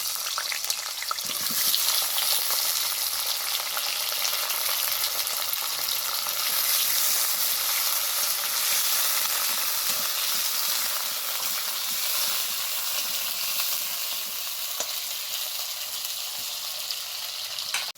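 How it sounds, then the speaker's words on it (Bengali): Diced potato cubes fry in hot oil for a kofta curry, a loud, steady sizzle and crackle with occasional stirring scrapes throughout. "এবার ওই তেলের মধ্যেই এই যে ডুমো ডুমো করে আলু কেটে রেখেছিলাম, এই আলুগুলো ভেজে নেব।"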